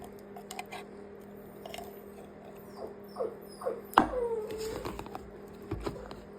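A Shih Tzu and a Border Collie puppy eat their food close by, with soft wet chewing and crunching, a few short whimpers and one sharp clatter near the middle, over a steady low hum.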